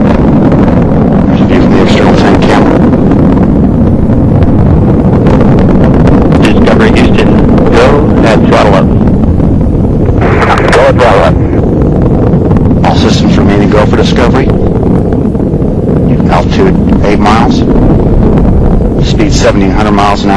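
Space Shuttle Discovery's rocket engines roar during the STS-116 launch from Kennedy Space Center, a loud, continuous rumbling blast with crackling and wind-buffeted bursts throughout, under an announcer's voice.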